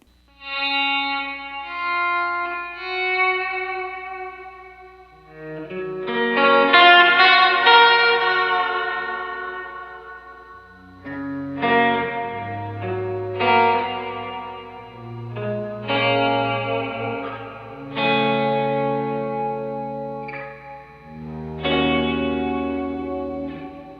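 Electric guitar notes and chords through a Walrus Audio Slotva reverb pedal's lush, wobbling modulated reverb, swelling and shimmering with long washy tails, played alone.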